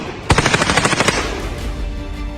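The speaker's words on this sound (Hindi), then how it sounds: "लीव में आज यूक्रेन और रूस की सेना के बीच आमने सामने की जंग देखने को मिली। जमकर फायरिंग हुई।" Gunfire from a battle between Ukrainian and Russian armies in Lviv: a loud rapid burst of automatic shots lasting under a second, then a lingering roar and echo.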